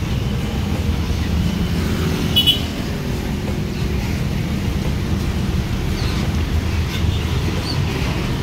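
GM Royal coach bound for Solo–Wonogiri rolling through a bus terminal on a morning departure, a steady low engine and road rumble with one brief higher tonal blip, no voices.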